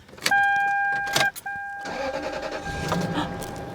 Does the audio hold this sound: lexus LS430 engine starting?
yes